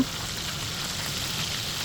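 Tilapia fish frying in hot oil in a kadai, a dense, even hiss of sizzling that stays steady and fairly close throughout.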